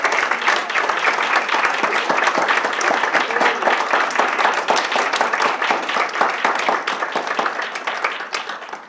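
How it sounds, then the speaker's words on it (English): Students at an MLK presentation give themselves a round of applause, a dense, steady wash of many hands clapping at once that holds throughout and fades slightly at the end. "Give yourselves a round of applause."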